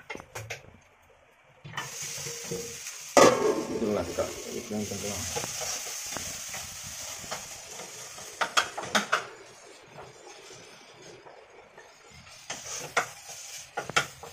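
Chopped tomato dropped into a hot pan, a sudden loud hiss that settles into steady frying with intermittent clinks and scrapes of a utensil, voices talking at moments over it.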